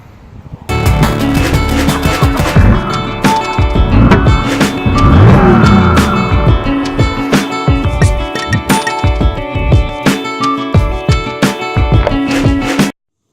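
A BMW E46 engine runs rough after its throttle cable ball has been reconnected. It is loud and close, with a sudden start, an uneven pulsing idle that lurches and stumbles, and an abrupt stop at the end.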